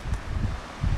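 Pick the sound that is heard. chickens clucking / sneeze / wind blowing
wind blowing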